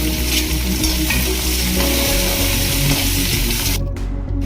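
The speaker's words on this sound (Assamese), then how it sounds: "এতিয়া মই ইয়াতে পিঁয়াজখিনি ভাজি লওঁ আৰু পিঁয়াজখিনি মই ভালদৰে ৰঙচুৱা হোৱাকৈ অকণমান ভাজি লওঁ" Onions and bay leaves fry in hot oil in a pan, a loud, continuous close sizzle with stirring, cutting off abruptly near the end.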